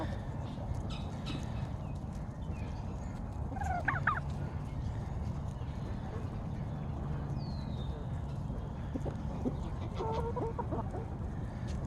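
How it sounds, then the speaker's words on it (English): Backyard fowl, chickens and a turkey, call at moderate distance: scattered clucks and a short gobbling burst come over a steady bed of outdoor noise, with no voices. "look at you and all your chickens"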